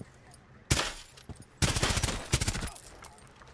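Gunfire in Rainbow Six Siege rings out in sharp, loud bursts, one short volley followed by a longer rapid string of shots, close and alone without talk.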